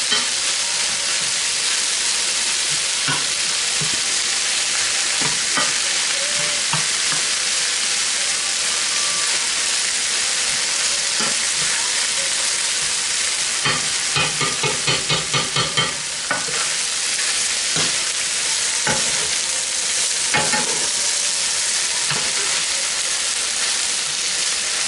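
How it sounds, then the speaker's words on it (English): Lots of garlic sizzling and frying steadily in a pan for pepper steak, a loud continuous hiss with occasional stirring scrapes and crackles throughout, no talking. "I have a lot of garlic here. Caramelize a little bit in the middle here."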